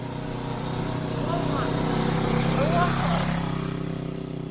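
Honda Africa Twin motorcycle with its exhaust set to quiet mode, a steady muted engine drone that swells gently while riding, with a voice talking over it.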